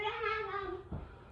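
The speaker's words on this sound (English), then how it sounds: "my cat just screamed" A cat lets out a drawn-out, wavering meow-like scream, fairly close and loud, sliding downward before a short thump of movement at the end.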